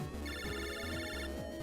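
Incoming phone call ringtone in the game Mega Man Battle Network 3, a bright chiptune jingle of repeating bleeping notes over a bouncing bass line, loud and clear with no voices.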